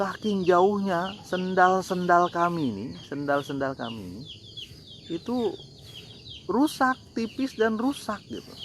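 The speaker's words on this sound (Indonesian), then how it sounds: "Iya, ada ayam di belakang." Chickens cluck in the background behind someone speaking Indonesian, their short calls coming in bursts that are partly masked by the steady talk.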